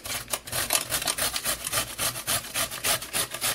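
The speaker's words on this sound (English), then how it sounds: "with my carrot here, I am going to grate these" A carrot is grated on a hand grater for lumpia filling, giving rhythmic rasping strokes about three per second, close and clear with no talking.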